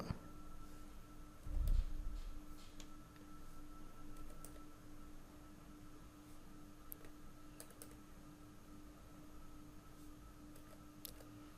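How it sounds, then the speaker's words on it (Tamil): Keys tapped on a computer keyboard while an OTP is entered into an online ration-card form, giving faint, sparse clicks over a steady low background hum with one short louder thump near the start. "அந்த ஓடிபியை வந்து இங்கே டைப் பண்ணுங்கள்"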